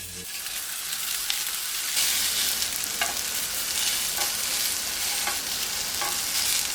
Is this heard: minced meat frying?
yes